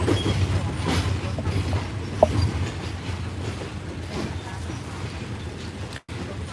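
A passenger train on the Bangkok to Ayutthaya line rumbles steadily as it pulls away, carriages rattling with faint clicking and a low continuous roar, heard from inside the car.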